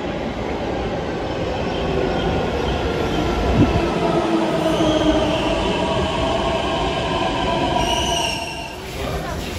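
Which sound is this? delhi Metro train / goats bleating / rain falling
delhi Metro train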